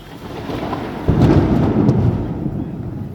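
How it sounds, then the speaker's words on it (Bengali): A deep thunder rumble rolls in and swells before slowly fading, over the steady patter of light rain during hot weather at night near a streetlamp. "বৃষ্টি আসছে এই প্রচণ্ড গরমে"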